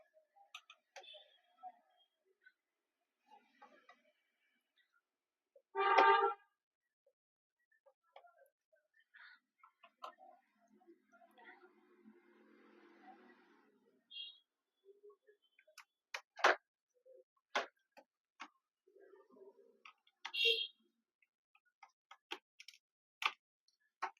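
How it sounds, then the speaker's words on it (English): Screws being removed one by one from the underside of a Lenovo IdeaPad S145 laptop, sparse faint clicks and small ticks scattered through a quiet room, with one louder rattle early on. "First you remove all the screws here one by one."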